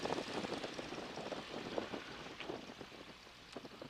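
A Boeing Stearman biplane's engine runs on the ground, a steady, moderately faint rumble with irregular popping pulses throughout.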